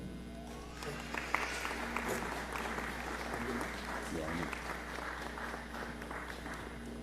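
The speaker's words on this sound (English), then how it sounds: "so we can acknowledge you with a big round of applause" An audience at a school board meeting claps in a continuous, moderate round of applause heard from some distance over a low steady hum, with faint voices and shuffling mixed in.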